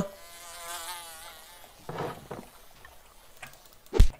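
Flies buzz in the video game Bakso Simulator, a thin, wavering insect drone that is loudest at the start and fades over a few seconds, with a sharp tap near the end.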